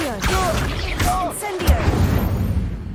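A fire spell cast in the video game Hogwarts Legacy, heard as bursts of whooshing flame and impact thuds layered over continuous game music and combat noise, with a spoken incantation over the top.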